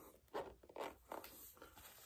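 Zipper on an Air Jordan 1 Low FlyEase sneaker is pulled in several quick, close raspy zips, faint and short with brief pauses between pulls.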